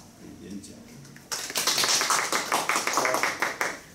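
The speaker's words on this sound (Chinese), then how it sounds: "我们就是先热烈掌声欢迎刘老师的演讲" An audience welcomes a lecturer to an academic talk on Buddhist studies in Taiwan. After a quiet start, a burst of loud, dense, sustained clapping fills the room.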